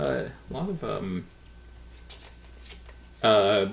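A deck of Lost Ruins of Arnak board game cards is riffled and shuffled in a brief burst of papery rustling, set between stretches of talk and followed by more speech.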